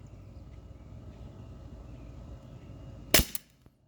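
A single sharp shot from an Umarex H&K VP9 T4E .43 training pistol firing rubber balls cracks out after a quiet stretch of low background hum, followed by a faint tail.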